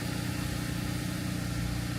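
A 2017 Subaru Impreza Sport engine idles steadily just after starting, an even, continuous mechanical hum with a regular low throb, close and moderately loud with no talk.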